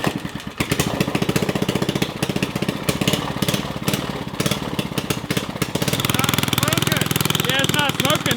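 Vintage 1973 Briggs engine on a rat rod mini bike with carburetor trouble, running loud and close with a steady rapid chugging putter that grows fuller and rougher toward the end, with people talking over it.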